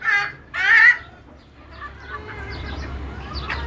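Native desi chickens on a rooftop farm, two loud close clucks at the start followed by softer scattered clucking and low background murmur.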